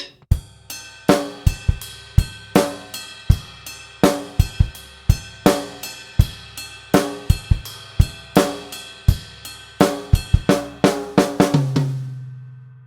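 Four bars of a drum kit groove, with kick, snare and cymbal strokes in a busy, steady pattern that ends on a fill and a ringing tom, played close with no voices.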